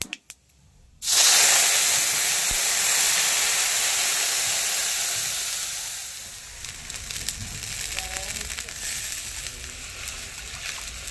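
Mustard paste added to a pan of mixed vegetables gives a sudden loud sizzle that keeps hissing steadily, then settles into a softer, crackling fry with light stirring.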